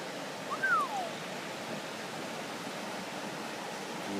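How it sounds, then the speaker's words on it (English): Pistyll Rhaeadr waterfall in North Wales pours with a steady, even roar of falling water, heard from a distance, and a single bird chirp rises briefly near the start. "I'm out at Pistyll Rhaeadr Waterfall."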